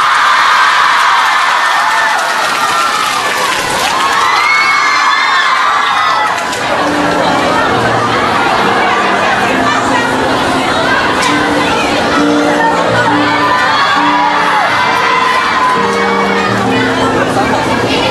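A concert audience at a Beijing Music Radio fan meeting cheers, shouts and claps loudly to welcome a song, the roaring crowd continuing as the music begins underneath.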